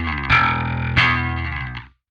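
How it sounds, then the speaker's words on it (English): Electric bass run through the Parallax X bass distortion plugin with transpose at zero, two plucked notes with a gritty, harmonically rich, distorted tone, each sustaining then fading, close and loud with no voices. "Let's hear how my bass sounds with the transpose set to 0."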